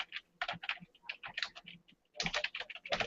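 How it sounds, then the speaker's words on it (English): Fingers typing on a computer keyboard, close and crisp, in quick bursts of key clicks separated by short pauses, with a longer silent gap before a final fast run. "I can just start typing in here Kentucky"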